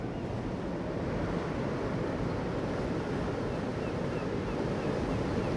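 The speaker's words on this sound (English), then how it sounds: "Not the biggest of waves today." Modest sea waves wash steadily against the harbour breakwater at Staithes on the rocky North Yorkshire coast, a continuous rushing surf with gusty wind noise buffeting the microphone throughout.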